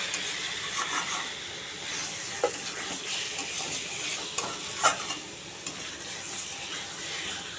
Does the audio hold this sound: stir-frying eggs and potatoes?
yes